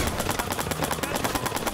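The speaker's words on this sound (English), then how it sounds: "Some nut job shooting up the place." Gunfire in Watch Dogs 2 as a rapid, evenly spaced string of close shots, a steady automatic volley with faint voices underneath.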